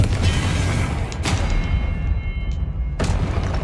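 In the video game Hogwarts Legacy, a Confringo spell explosion lands as a pair of sharp booming blasts over dense, rumbling battle noise.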